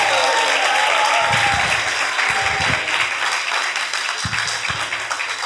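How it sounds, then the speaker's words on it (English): Wedding reception guests clap to honor Danelle, a steady wash of crowd applause filling the room from start to finish, loud and sustained, with a few voices and thumps underneath. "So I just want to hear everybody clap and just honor Danelle for a moment."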